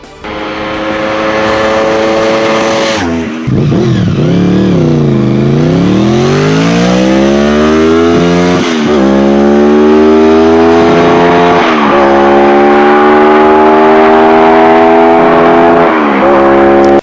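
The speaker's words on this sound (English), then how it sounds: "VFR 750 sounds just amazing" A Honda VFR 750 motorcycle engine revs loudly and close, pitch climbing through gears with brief drops between shifts, continuous and strong.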